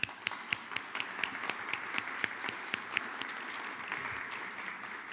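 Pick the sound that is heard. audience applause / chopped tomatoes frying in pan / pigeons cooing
audience applause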